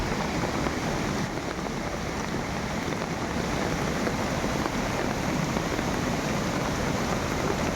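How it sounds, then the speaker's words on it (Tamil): Heavy monsoon-type rain pours down steadily, a dense, loud, unbroken hiss of downpour with water rushing, continuous and close with no voices. "தொடர்ந்து மழை பெய்து வருகிறது."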